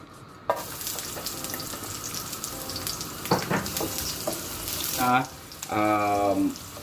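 Onions go into a little vegetable oil and start frying with a crackling sizzle, heard alongside running tap water and clattering kitchen sounds; a brief burst of louder water flow comes near the end.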